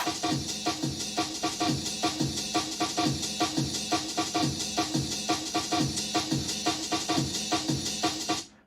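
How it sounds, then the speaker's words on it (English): A busy amen breakbeat drum loop for a happy hardcore track plays, with fast kicks, snares and cymbals in a dense, driving rhythm that cuts off abruptly at the end. "And we've also got a amen beat."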